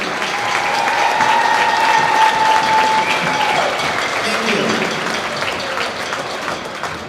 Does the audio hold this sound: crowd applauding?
yes